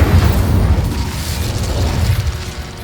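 Incendio fire spell cast in the video game Hogwarts Legacy: a loud, low, rumbling blast that roars continuously for a few seconds with fluctuating intensity.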